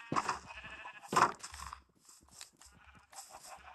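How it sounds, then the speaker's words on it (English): Sheep in the video game Minecraft bleat twice in close succession, loud and near, followed by a few fainter, shorter calls, with no talking. "We only got like 4 white sheep."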